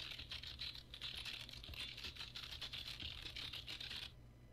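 Rapid typing on a computer keyboard in a game, a dense run of quick clicky keystrokes, faint and steady for about four seconds before stopping abruptly.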